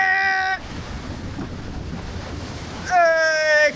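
Water rushes and splashes over riders on the Grand Canyon Steamer boat ride during its drop, a loud roaring wash of spray and wind-like noise between bursts of tonal sound at the start and end.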